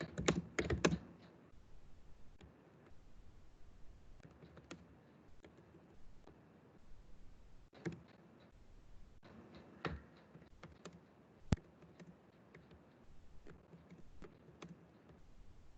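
Fingers type a search phrase on a computer keyboard, producing quiet, irregular bursts of clicking keystrokes with brief pauses between them, close by in an otherwise hushed room.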